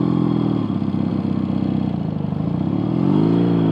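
A 1982 Yamaha XS650SJ motorcycle engine idles close by with an even, throbbing rhythm, swelling slightly near the end.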